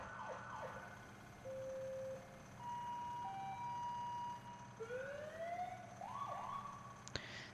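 A second siren tone on a fire truck in the video game EmergeNYC: shifting electronic wails and steady held pitches that step between levels, then rising sweeps near the end, loud and continuous with no voices.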